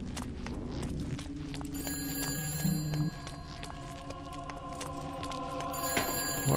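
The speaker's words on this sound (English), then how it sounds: "Where are you, phone?" In the video game Shadows of the Damned, a phone rings repeatedly for several seconds, a bright, insistent ringing that grows louder over a humming game background and scattered footstep-like clicks.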